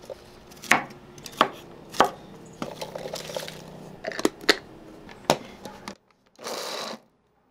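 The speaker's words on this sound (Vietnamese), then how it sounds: "cắt nhỏ và đem đi xay nhuyễn" A knife chops ginger and garlic finely on a board, with sharp, irregular cuts in quick bursts, then a brief pause and a short final rasp.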